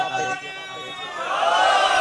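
Crowd at a Muharram majlis gathering in Askari 4, Karachi, answering a call with a loud collective slogan chant that swells toward the end, voices blended into one broad roar.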